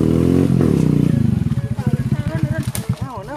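A motorcycle engine runs up close and loud, first a steady drone, then a rapid series of throbbing, uneven revs and pulses.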